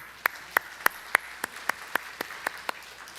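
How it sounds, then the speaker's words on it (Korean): During a Sunday church service, about ten crisp, evenly spaced hand claps sound in a steady rhythm, fairly quiet and distinct against a hushed room. "우리 박수 한번 쳐줍시다."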